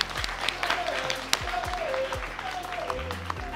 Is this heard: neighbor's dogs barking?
no